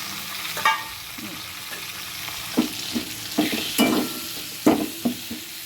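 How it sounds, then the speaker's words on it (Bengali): Ground spice paste fries in a pan of oil for aloo dum, a soft continuous sizzle broken by several sharp scraping bursts as a spoon stirs it, close and clear with no talking. "এই যে পেস্ট করা যে মশলাটা সেটা আমি আস্তে আস্তে দিয়ে দিচ্ছি"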